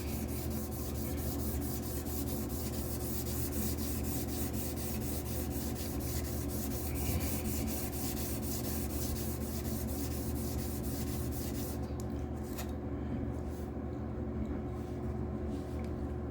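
Hand lapping an Intel Core i9-13900K CPU: a steady, close, rasping rub with rhythmic back-and-forth strokes that continues for most of the stretch, then thins out near the end, with no speech.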